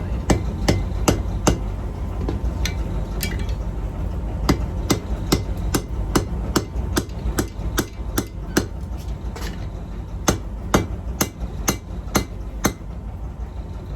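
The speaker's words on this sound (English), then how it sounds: "Start riveting our hot side." Hammer riveting hot steel tongs together at a forge, sharp metallic strikes landing in uneven bursts of blows with short pauses, loud and close over a low steady background hum.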